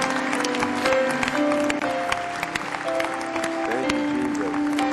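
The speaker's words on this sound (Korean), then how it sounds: "우리 하나님께 영광의 박수를 올리겠습니다." A congregation at a bilingual Korean and English church service claps in praise to God, with steady applause running throughout over sustained music in the background.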